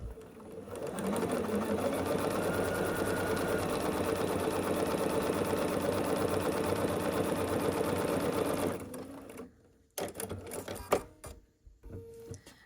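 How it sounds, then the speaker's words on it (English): A sewing machine stitches a long diagonal seam on quilt block triangles, a fast steady mechanical whir running for about eight seconds before stopping, followed by a few soft handling clicks and rustles. "we're going to sew along this long diagonal with a 1/4 inch seam allowance"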